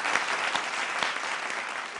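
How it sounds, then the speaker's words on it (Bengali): A game show studio audience claps steadily, a dense burst of applause holding at an even level throughout. "খুব ভালো খেলেছেন, জোরে একটা হাততালি।"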